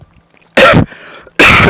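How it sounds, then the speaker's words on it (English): A man who is sick coughs twice, two loud, harsh bursts close to the microphone with a short quiet gap between them and no speech. "sorry for my coughing"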